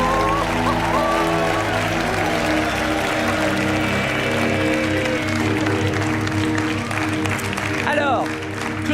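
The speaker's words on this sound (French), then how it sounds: "On vous laisse repartir sous les applaudissements du public." A television game-show studio audience applauds, a dense sustained clapping wash mixed with background music and a voice speaking over it, fading slightly near the end.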